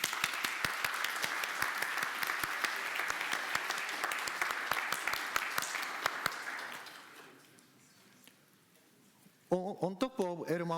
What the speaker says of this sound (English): Then once again, please give them big applause.